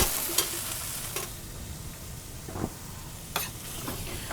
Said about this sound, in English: So our sauce is in the pan.